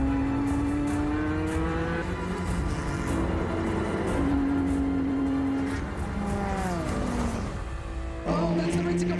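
Race cars at Le Mans, engines roaring and rising in pitch through gear changes as they accelerate onto the track, loud and close with a commentator talking over them.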